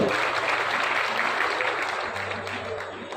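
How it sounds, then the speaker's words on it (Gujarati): A crowd claps at a community mass wedding ceremony in Savli, Vadodara, welcoming a guest. The applause is dense and continuous, easing slightly toward the end, with a faint voice underneath. "જોરદાર તાળીઓ"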